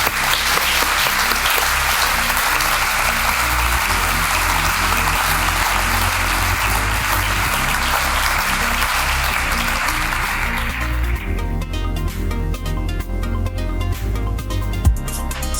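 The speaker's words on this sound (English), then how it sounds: "a big round of applause for you" Steady, dense applause from an audience after a leadership talk, loud and sustained throughout with background music underneath and no speech over it.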